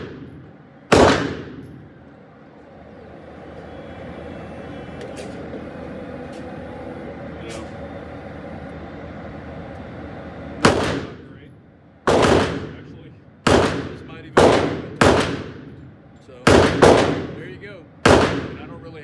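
CZ P-07 and P-10C pistols firing 115 grain rounds at 7 yards: one loud, close shot, then a long pause under a low background rumble, followed by a string of seven sharp reports at uneven, fairly quick intervals.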